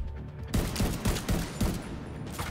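Mark 17 rifle firing in The Division 2, heard as a quick run of about six loud, close shots at a steady rhythm over a low background rumble, with no talk.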